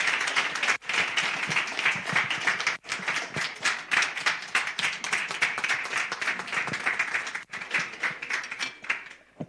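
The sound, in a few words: applause for the Minister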